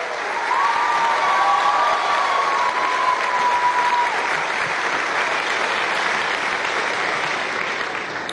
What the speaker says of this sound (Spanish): pido un aplauso también para ustedes